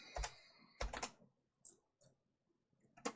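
Close, dry keystrokes on a computer keyboard while CSS code is typed, in short uneven bursts of several clicks separated by pauses, with a few lighter isolated taps trailing off.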